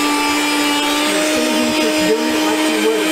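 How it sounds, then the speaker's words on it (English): A meat slicer cuts through a head of cabbage with a loud, steady motor whine and a sustained tone, a rough grinding texture underneath as the blade shaves the leaves, continuous and close with no talk. "He's doing it on the meat slicer."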